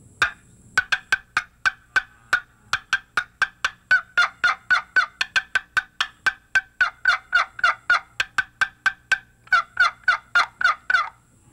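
A Primo's hen box turkey call struck rapidly to mimic excited hen clucking, giving a long, close, loud run of sharp evenly spaced clucks with a few short pauses, alone without talk.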